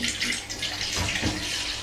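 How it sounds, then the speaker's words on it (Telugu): Water pours into a bowl of bajji batter mix with salt and soda, making a short, steady splashing trickle close by. "దాంట్లో మనం వాటర్ పోసుకుని"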